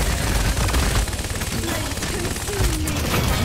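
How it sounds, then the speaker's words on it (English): Several players fire weapons during a Paladins match, a dense, continuous clatter of overlapping gunfire that stays loud throughout, with voices faintly mixed underneath. "There's literally just five people shooting"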